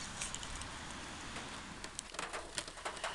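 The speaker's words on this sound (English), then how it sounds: "It's raining, it's wet and cold and miserable." Steady rain falls on a cold, wet day in town, a soft, even patter with scattered nearby drips and a bird calling faintly in the background.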